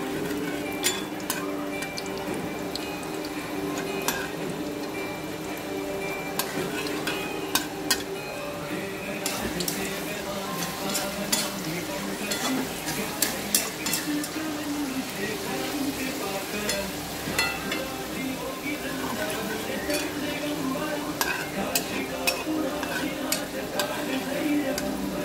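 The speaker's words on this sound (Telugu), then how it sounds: "నేను వేరుశనగ నూనె వేసానండి, అందుకని పోపు వేగడం కొంచెం లేట్ అవుతుంది." Tempering spices, fenugreek seeds, frying in peanut oil in a pan, a continuous close sizzle with scattered crackles and pops and occasional stirring clicks, steady throughout with faint talk in the background.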